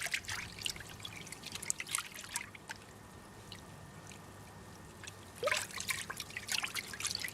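Water sloshes and trickles in a gold pan as crushed vuggy-quartz material is swirled, with soft splashing bursts near the start and again toward the end, close up and steady between, with no talking.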